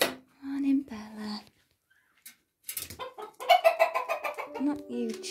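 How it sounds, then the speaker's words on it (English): Farmyard chickens on a French farmhouse cluck in a few short, close bursts, with a pause and then livelier clucking near the end. "chickens"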